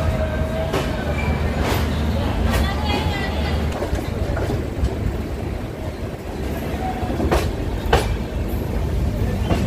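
Ajmer Dadar Superfast Express pulling away from platform 1 at an Indian railway station, a steady loud rumble of the rolling train with a few sharp clanks and a faint high whine, under distant station chatter.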